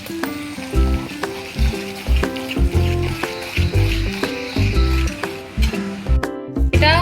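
Yogurt mixed with onion, ginger, garlic and green chili paste stirred in a pan for a Bengali methi katla fish dish: rhythmic scraping strokes with soft clinks of the utensil against the metal, close and steady, no talk.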